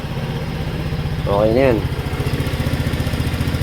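A Rusi RFI 175 motorcycle engine idles steadily after starting, a close, even rapid putter running throughout while someone talks briefly over it.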